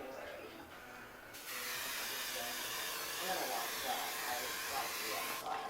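Airbrush spraying makeup down a bride's neck, a steady close hiss starting after a moment and running on evenly, with a voice speaking quietly over it.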